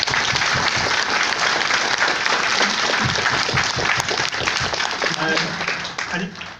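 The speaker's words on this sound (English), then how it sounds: "So big round of applause for that." A crowd applauds at a Sea of Thieves developer panel, loud and dense clapping that holds strong throughout, with some cheering and voices mixed in before it begins to fade.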